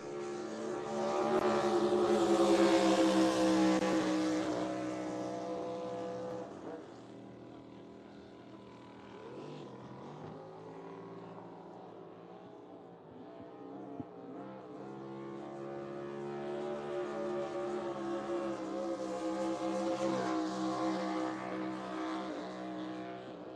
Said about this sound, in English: So James Clark, the hull is an Evercraft. It's powered by a 6-litre Dodge